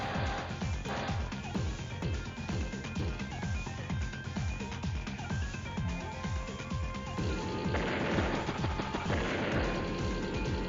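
A war tank attacks a rocket unit in Advance Wars: Days of Ruin, a rapid series of punchy cannon shots and impacts repeating in a steady rhythm over game music, growing denser toward the end.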